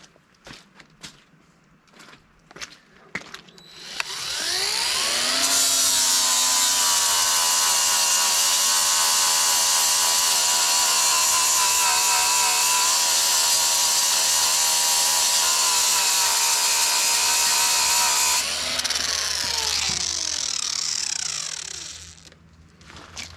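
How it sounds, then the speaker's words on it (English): A power tool grinds a wood slice, a loud, sustained high whine that spins up after a few scattered knocks, holds steady for about fifteen seconds, then winds down. "We'll grind it just a little bit more."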